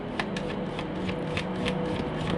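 Playing cards shuffled by hand during a tarot reading, with repeated soft riffling bursts of card flutter over a low steady hum, close and fairly quiet, no talking.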